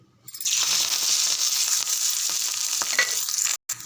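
Loud sizzling crackle of vadagam and curry leaves dropped into hot oil for fish kuzhambu, starting abruptly and hissing steadily, with a few sharp pops before a brief clatter.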